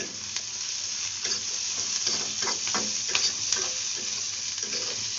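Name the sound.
onions frying in ghee in pan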